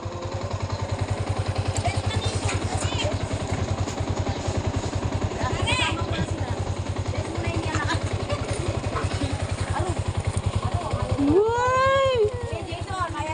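A motorcycle engine runs nearby with a fast, steady chugging idle throughout, while people talk over it and a high squeal rises near the end.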